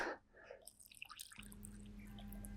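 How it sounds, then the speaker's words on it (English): Water trickles and drips into a container nearby, a brief splashy pour of small droplets, followed by a low steady hum. "pour some water out"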